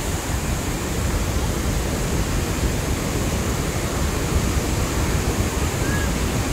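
A large waterfall at Tirathgarh in Chhattisgarh's forest rushes in a steady, dense roar that fills the scene without pause and holds at an even, fairly loud level throughout.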